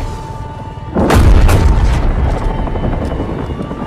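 A helicopter is shot down and explodes in a Call of Duty Modern Warfare cutscene: a low rumble, then a sudden loud boom about a second in, with a heavy roar that slowly fades.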